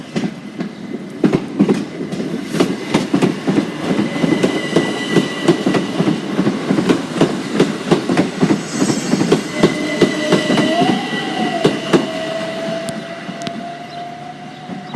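A train runs over the level crossing at Deal, Kent, heading toward Ramsgate, its wheels beating a rhythmic clickety-clack up close while a crossing tone sounds faintly in the later part.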